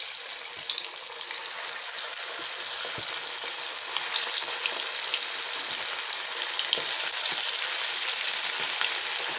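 Marinated chicken 65 pieces fry in hot oil over a medium flame, a steady, loud, dense sizzle that keeps going without a break and swells slightly about halfway through.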